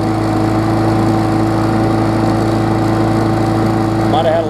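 A 2018 Murray big wheel lawn mower with a swapped engine runs steadily nearby, holding a constant drone at even pitch with no change in speed. Talk can be heard over it.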